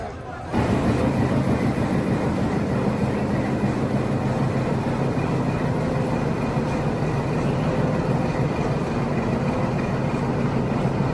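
A train on the Ooty mountain railway rumbles continuously and loudly nearby, a dense, unbroken roar that holds steady from just after the start to the end.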